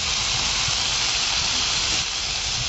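Warm water poured into a hot pan of boal fish curry with potatoes, producing a loud, steady sizzling hiss that fills the whole stretch with only slight variation.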